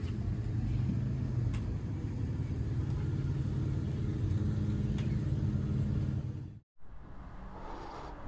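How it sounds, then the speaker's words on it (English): A motorcycle engine idles steadily at close range with a deep, even rumble, having just been started after an oil top-up; a brief cut near the end drops out before the running sound resumes. "Bike when I start it sounds a lot nicer"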